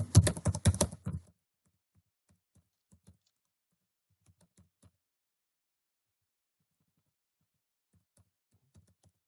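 Keys clatter rapidly on a computer keyboard in a dense burst at the start, followed by a few sparse, faint keystrokes and clicks amid near silence.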